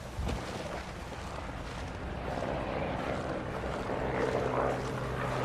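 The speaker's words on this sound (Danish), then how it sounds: "Der er en helikopter her." Helicopter in a horror video game, a steady low rotor and engine drone with broadband rumble that holds constant and swells slightly louder toward the end, with no voices.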